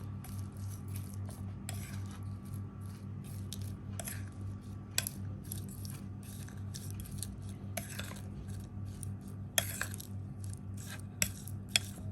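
A spoon stirs raisins into a sweet thrimadhuram dish, giving soft scraping and scattered light clinks against the vessel over a low steady background hum.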